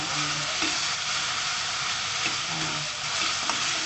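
Spice paste for pindang fish fries and is stirred in a pan, a steady close sizzle with scraping spatula strokes recurring every second or so, no voices.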